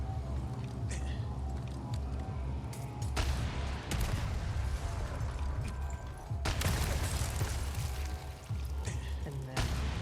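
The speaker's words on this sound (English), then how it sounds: "And then more explosions." Rumbling explosions and bursts of gunfire in Resident Evil 4 Remake, heavy low booms under steady noise with sharper blasts at intervals.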